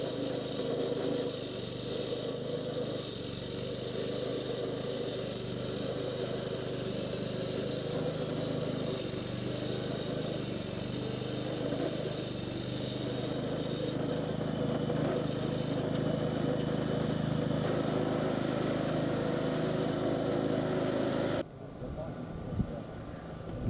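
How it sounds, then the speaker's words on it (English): A petrol road saw cuts along a road edge to prepare for concrete kerbing, giving a loud, steady engine roar with a grinding cut that runs unbroken before stopping abruptly near the end. "Mark is precisely cutting the road edge, which is our guide for the face of the curb"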